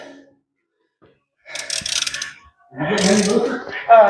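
A bolt on a 2012 Mazda 6 Touring subframe is turned by hand with a ratchet extension, producing two short bursts of clicking ratchet and metal mechanism noise separated by brief quiet, close by.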